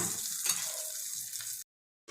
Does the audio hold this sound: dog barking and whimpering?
no